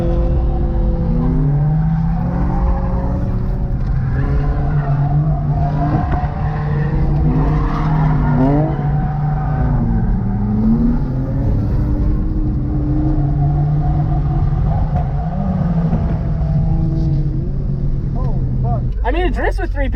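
BMW 318ti drifting at a drift event, loud wavering tire squeal and skidding over a revving engine, continuous for the whole stretch with voices chattering inside the car.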